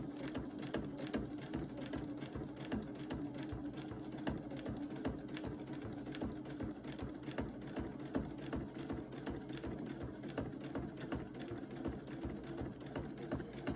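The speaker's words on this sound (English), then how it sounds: "I'm going to complete sewing these circles" A sewing machine stitches fabric circles for a bucket hat, a steady rapid needle chatter running continuously at moderate level with no talking.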